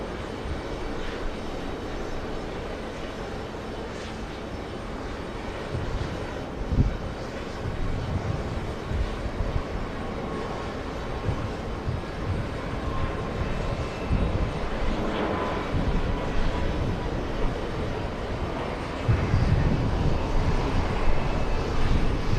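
A jet aircraft crossing runway 4 left at JFK airport in gusty wind, a continuous broad engine roar that swells slightly toward the end, with low wind buffeting underneath and no talk.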